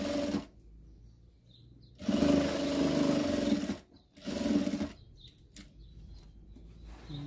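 A sewing machine stitches the side seams of fabric scraps for a patchwork Christmas tree, running in two close, steady whirring bursts separated by short pauses.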